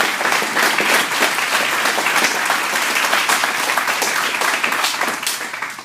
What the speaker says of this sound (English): I would like to give her a round of applause for what she's accomplished.